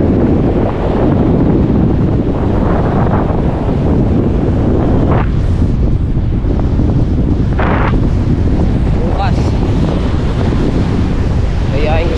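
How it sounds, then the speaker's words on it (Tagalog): Strong, steady wind roars across the microphone at a river mouth throughout, with a deep rushing buffet and faint surf-like wash beneath, a few brief higher sounds poking through. "Masalakas ang hangin."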